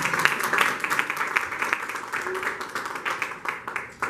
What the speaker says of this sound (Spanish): Claro que sí, dile un aplauso a papá Dios.